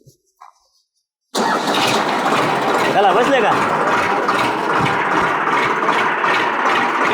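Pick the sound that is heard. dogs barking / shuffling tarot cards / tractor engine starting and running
tractor engine starting and running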